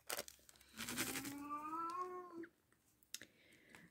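A house cat gives a drawn-out, wavering meow at close range between soft rustling and crinkling noises, fairly quiet overall, no talking.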